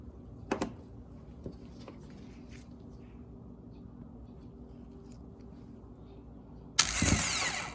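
A 2009-2013 Toyota Corolla starter motor, bench-tested out of the car, gives a sudden loud whirring burst near the end after a long quiet stretch broken only by a couple of faint clicks.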